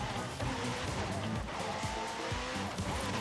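A car drifting in Forza Horizon 5 runs its engine steadily at moderate volume, with tires squealing and skidding through the drift.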